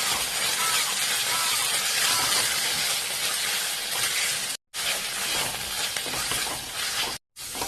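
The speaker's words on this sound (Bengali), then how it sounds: "তারপরে গাইস পেঁয়াজ দিলাম। এখন গাইস সবটা ভালোভাবে বাজিয়ে নিব।" Onions frying with garlic and spices in a pan for a meat curry: a loud, steady close-up sizzle and hiss that runs almost unbroken, with two brief silent gaps near the end.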